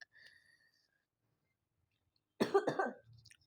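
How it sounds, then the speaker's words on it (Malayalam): A single close, harsh cough bursts out loud after a quiet stretch, a short cluster of rough explosive bursts from someone with a blocked nose, followed by a faint low rumble. "എൻ്റെ മൂക്കടച്ചിരിക്കുകയാണ്, ചുമയൊക്കെ ഉണ്ട്"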